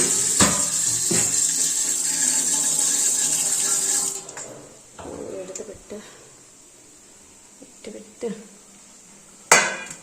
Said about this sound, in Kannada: ಒಂದು ತಟ್ಟೆಗೆ ನೀರು ಹಿಡಿದ್ಬಿಟ್ಟು ಇಟ್ಬಿಡ್ತೀನಿ